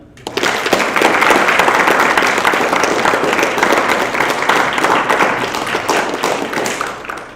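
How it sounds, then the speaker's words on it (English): A large debate audience at a university discourse event applauds loudly, a dense, sustained roar of many hands clapping that begins abruptly and carries on at full strength for about seven seconds. "Please applaud nice and loud right now"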